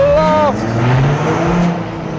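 Cars revving through the Goodwood Tunnel at the Tunnel Blast meet, a loud engine roar with rising and falling revs echoing in the enclosed space, continuous throughout.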